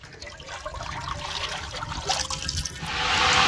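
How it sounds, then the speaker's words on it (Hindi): Cooking oil poured into a large cooking pot on an outdoor village stove for goat gravy, a continuous close liquid rush and trickle that grows louder and fuller toward the end. "देगचे में डालेंगे कुकिंग ऑयल"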